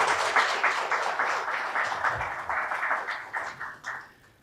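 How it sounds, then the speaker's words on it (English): A panel-discussion audience applauds the panelists with a dense, steady patter of many hands that holds for several seconds, then thins and fades out near the end. "I would request you to do a round of applause for all of them"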